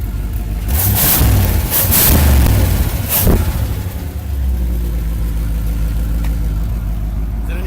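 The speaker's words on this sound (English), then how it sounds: "Let's give her a rev." An old Chevrolet Camaro's engine roars through several loud, deep revs close by, then drops back to a rumbling idle.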